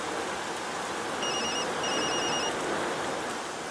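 A phone rings with an incoming call from an unknown number: two short electronic ring bursts sound mid-clip over a steady background hiss.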